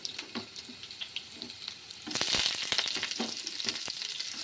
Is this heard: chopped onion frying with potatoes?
yes